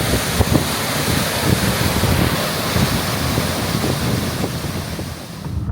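Heavy rain pounding down on a camper van, a dense, steady roar of broadband hiss with gusty low rumble, loud and continuous throughout, no voices.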